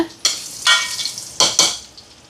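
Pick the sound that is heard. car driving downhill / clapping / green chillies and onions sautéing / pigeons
green chillies and onions sautéing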